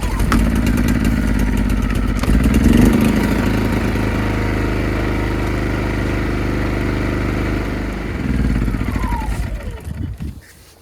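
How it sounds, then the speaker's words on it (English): A PowerSmart 2200W PS5025 portable inverter generator with a 4-stroke OHV gas engine runs at a steady, fairly loud near hum, rising briefly around the middle and shifting pitch near the end before winding down. "Always wanted these super quiet generators. Enough power that you need from the PowerSmart inverter generator."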